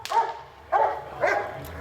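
A police K-9 dog barks during a canine team training exercise in Yakima, giving three sharp, fairly close barks with short pauses between them.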